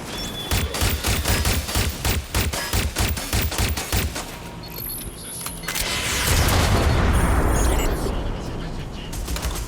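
Gunfire in the video game Watch Dogs Legion: rapid bursts of shots and booms in a dense fusillade, loud and close, shifting into a rumbling, continuous barrage near the end.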